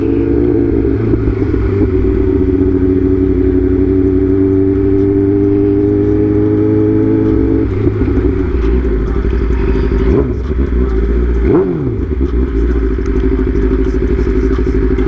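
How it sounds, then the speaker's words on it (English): An S1K motorcycle engine at a Buc-ee's car meet: a loud, steady idle hum close by that shifts in pitch partway through. "There's one bike."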